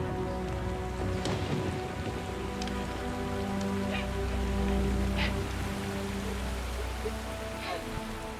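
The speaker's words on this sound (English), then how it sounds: "while the downpour douses the fuel-soaked plane, it quickly becomes a deluge" Heavy jungle rainy-season downpour pours steadily onto a fuel-soaked crashed plane, pattering on surfaces with scattered louder drips over a constant low rush.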